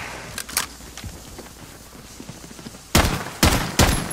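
Gunfire from a single-barrel, single-shot gun in Call of Duty: Modern Warfare, with faint clatter and footsteps first, then three loud, evenly spaced shots close by near the end.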